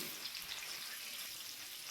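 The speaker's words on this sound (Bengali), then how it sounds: "পেঁয়াজটা ভাজা হচ্ছে," Onion frying in a pan over medium heat gives a faint, steady sizzle with no talking.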